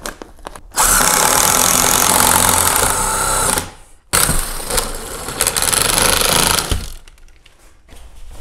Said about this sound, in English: Just gonna drill this as high as I can.